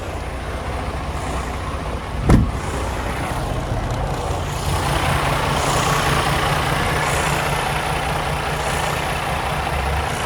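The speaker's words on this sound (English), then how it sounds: "Let's go have a listen to this truck running." A 2020 Freightliner Cascadia with a DD15 diesel engine and automatic transmission idles nearby with a steady low rumble, a sharp air hiss bursting once early on, then the engine note rising slightly and holding.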